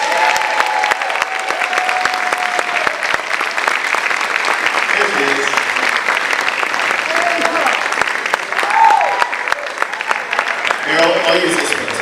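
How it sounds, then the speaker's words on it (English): Audience applause at a Halloween 2 convention panel: steady, dense clapping fills the room throughout, with a few brief voices rising over it. "Give them a round of applause."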